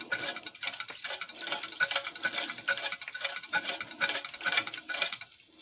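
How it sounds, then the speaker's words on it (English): Repeated scraping and clinking of a spoon stirring food in a crock pot, a steady rhythmic swishing close up with no talking. "Stir this up some more."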